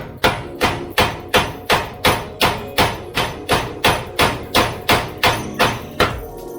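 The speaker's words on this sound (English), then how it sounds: "we're going to peen them. So put them on a nice hard surface and then basically just belt the crap out of the head so it'll flatten and tighten it" A hammer peens rivet heads on a clutch plate for a Daihatsu Move resting on a hard surface, about seventeen sharp metallic blows in an even, steady rhythm, loud and close, with no voices.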